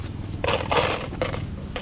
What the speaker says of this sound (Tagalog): May mga barya tayo dito.